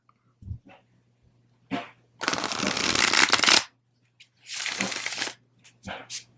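Several bursts of tarot cards being bridge shuffled, a long riffle followed by a shorter one, with light tapping and handling noises between them, close up.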